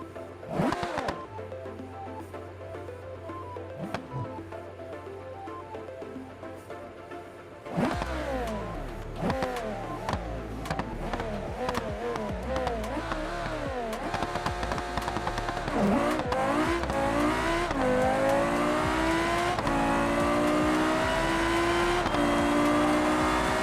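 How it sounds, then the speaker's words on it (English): The GD808 hypercar revving and launching in the BeamNG Drive driving game: a quiet idle, then a sudden loud engine roar climbing through repeated gear changes, rising and dropping in pitch as it accelerates hard. "This thing launches like a rocket, total beast."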